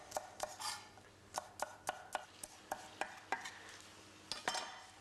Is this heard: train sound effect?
no